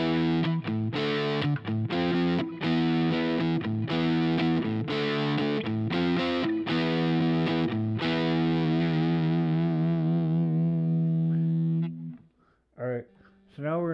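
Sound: electric guitar played with overdrive patch

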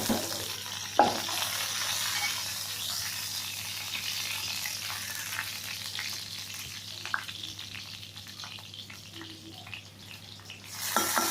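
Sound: tempering mustard seeds and cumin in hot oil

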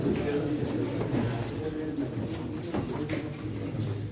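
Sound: pigeons cooing at a pigeon auction

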